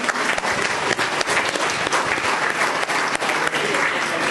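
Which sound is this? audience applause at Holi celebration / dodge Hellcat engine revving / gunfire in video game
audience applause at Holi celebration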